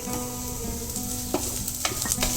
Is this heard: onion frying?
yes